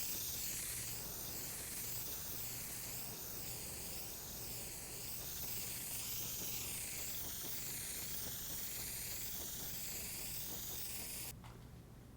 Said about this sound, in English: we're going to start out spraying slowly, carefully, avoiding runs